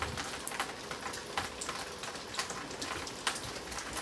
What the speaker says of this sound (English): you can hear the water pressure building up as the air is expelled out the pipe